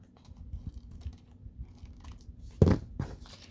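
Paper is cut for a handmade craft project: soft handling rustles lead to one sharp, close snip, then a fainter follow-up cut.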